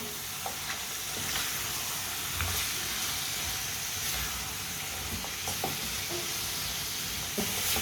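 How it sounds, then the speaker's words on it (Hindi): Finely chopped turnips cooking in a pan for a shalgam dish: a steady, close sizzle runs throughout, punctuated by scattered clicks and scrapes of a spoon stirring. "शलजम डाल लेंगे बारीक कटे हुए। मिक्स कर लेंगे।"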